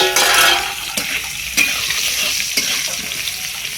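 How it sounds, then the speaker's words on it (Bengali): Nigella seeds hit hot oil for tempering, giving a loud close crackling sizzle with a few sharp utensil clacks and stirring scrapes. "অল্প কালো জিরে দিয়ে ফোড়ন দিলাম"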